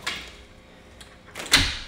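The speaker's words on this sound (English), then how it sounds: "hold on, I gotta open this door." A door is opened nearby: a faint knock near the start, then a louder clunk of handle and latch at about one and a half seconds, fading off.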